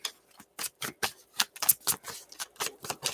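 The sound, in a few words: shuffling tarot cards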